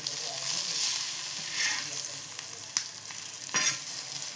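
Pieces of mixed fish sizzle steadily in hot oil in a pan, a close, continuous crackling hiss with a couple of brief clinks or turns partway through.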